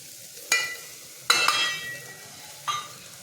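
Masala with spices being stirred and fried in a pan for mint rice, with three sharp scrape-and-sizzle bursts spaced apart over a low, steady background.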